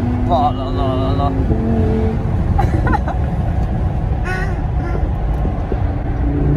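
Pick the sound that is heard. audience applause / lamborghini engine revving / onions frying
lamborghini engine revving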